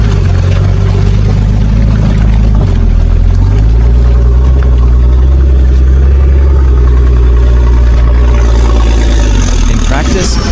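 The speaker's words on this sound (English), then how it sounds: "The engine sound is firm and controlled" A heavy military off-road truck engine rumbles loudly and continuously, its low pitch shifting up and down as the revs change.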